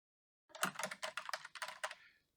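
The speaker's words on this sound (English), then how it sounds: "Oops, my typing is terrible." Quick burst of typing on a computer keyboard, a dozen or so close, crisp key clicks in an uneven rhythm lasting under two seconds.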